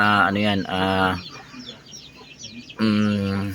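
Several Shamo native chickens cluck loudly in close bursts, a pause of quieter rustling, then another clucking call.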